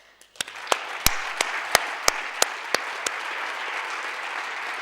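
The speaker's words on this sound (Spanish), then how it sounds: "es merecido un fuerte aplauso para ellos" Audience applause at a science communication congress, steady clapping from a large crowd with a few sharp, loud claps standing out at regular intervals above the wash.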